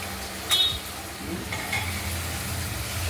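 Spice paste being stir-fried in oil for a katla fish curry with potato and tomato, a steady low sizzle with soft scraping stirs and a brief clatter near the start, close and moderately quiet, no talk.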